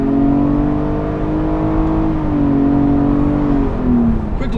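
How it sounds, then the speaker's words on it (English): A 2016 Infiniti QX60 3.5 AWD with an Xtronic CVT launches from a standstill. Its engine holds a loud, close, steady droning pitch that shifts only slightly as the SUV accelerates, with no talking. "launch start there shows off the updates to the Nissan and Infiniti's Xtronic CVT system"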